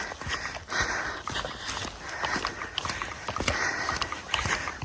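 Goat hooves patter and clop irregularly on hard ground close by on a hiking trail, with soft rustling and sniffing in between, like animals walking past.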